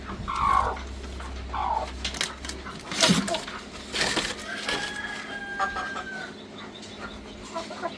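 Laying hens cluck and squawk close by, a few sharp calls scattered across the stretch, with some handling noise and brief talk mixed in.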